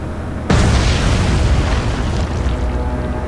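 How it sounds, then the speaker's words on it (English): A torpedo strikes a ship in the naval strategy game Atlantic Fleet: one sudden loud boom with a sharp onset, then a broad, sustained rumbling roar of debris and water that holds steady for several seconds without fading. "Here comes the torpedo."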